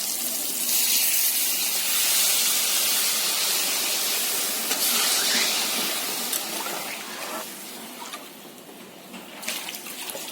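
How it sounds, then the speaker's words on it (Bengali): Water poured into a pan of frying spices and squash sets off a loud, steady hiss of steam that fills the whole stretch, easing slightly toward the end, with no voices. "এখন আমি জলটা দিয়ে দেবো"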